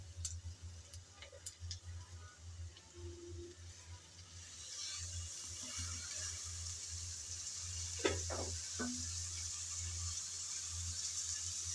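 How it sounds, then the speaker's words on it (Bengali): Bottle gourd peel frying in oil with chopped onion and potato, a quiet steady sizzle that swells after the first few seconds, with a few spatula clicks against the pan and a low background hum. "লাউয়ের খোসা আলু একসাথে নেড়ে চেড়ে আমি তেলে কিছুক্ষণ ভেজে নেব"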